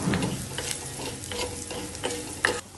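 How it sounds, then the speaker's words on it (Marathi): Coarsely ground masala sautés in a pan, a spatula stirring in steady, repeated close strokes over a soft, continuous sizzle, with no voices. "आणि हे आता आपण परतून घेऊया"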